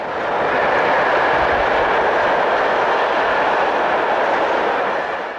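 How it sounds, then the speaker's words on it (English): SNCF BB15000 electric locomotive hauling a southbound container train on the main line south of Strasbourg, a loud, continuous rolling roar of the passing train that swells in and eases slightly at the end. "15020 heads a southbound container train"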